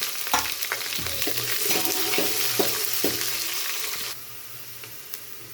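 Green chillies, curry leaves and onion fry in oil with a loud, crackling sizzle and repeated spatula clinks and scrapes, the sizzle easing slightly toward the end.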